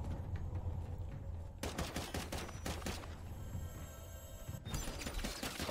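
Rapid automatic gunfire in a Call of Duty parkour game mode, bursts of sharp shots rattling over a low steady game background, with a loud cluster near the middle and another at the end.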